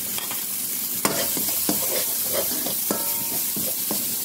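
Garlic sizzling in olive oil in a pan, a steady close frying hiss broken by a few sharp clinks and scrapes of a utensil stirring, with no talking.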